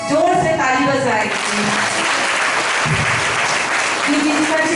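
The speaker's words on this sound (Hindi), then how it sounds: "उनके लिए जोर से ताली बजाएं।" Loud, sustained applause from a church congregation at a Sunday worship service, a dense wash of clapping lasting several seconds, with a voice talking over it near the start and again at the end.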